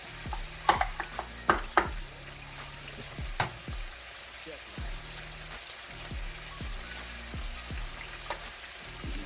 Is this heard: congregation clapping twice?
no